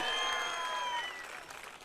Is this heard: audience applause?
yes